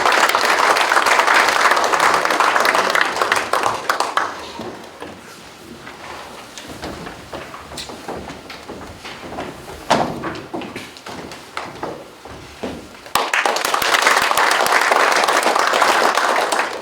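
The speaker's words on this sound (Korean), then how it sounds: "큰 박수로 청해 듣겠습니다" Loud audience applause fills a large auditorium at an agricultural industrial complex ceremony, easing off into scattered clapping, swelling briefly again, then returning to full sustained applause toward the end.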